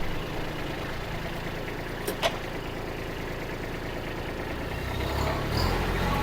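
A used Kubota B2140 tractor engine running during a test drive, a steady low mechanical drone close by with a brief clank partway through and a slight rise in revs near the end.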